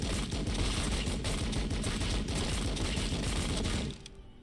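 Sustained rapid gunfire from units in Warhammer 40000 Battlesector, dense overlapping bursts rattling continuously for about four seconds before cutting off abruptly.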